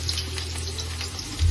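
Onions frying in oil in an aluminium pot for a 1 kg prawn biryani, a soft steady sizzle running throughout with a low hum beneath and a slight bump near the end.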